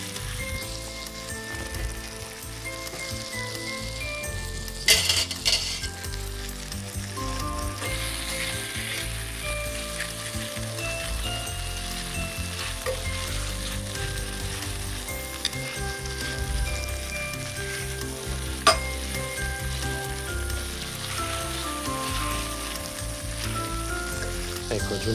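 Beef browning in hot butter in a pot, a continuous crackling sizzle with a few sharp pops, steady and close, no talking, under soft background music.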